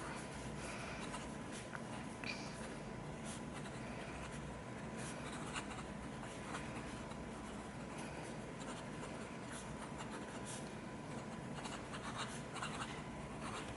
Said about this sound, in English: my mic picks up the sound of the nib, but it's not scratchy